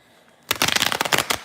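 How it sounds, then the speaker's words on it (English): A deck of tarot cards being shuffled, a brief, close, crisp riffling flutter lasting about a second after a moment of quiet. "Let me shuffle this deck."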